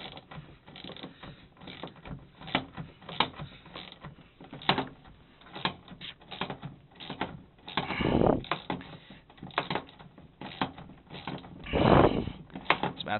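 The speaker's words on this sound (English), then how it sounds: "I'm using the divot here to rock my ratchet head back and forth in." Ratchet clicking as it rocks back and forth on a stuck bolt, a series of short mechanical clicks and creaks with two longer grinding strains, close and fairly quiet.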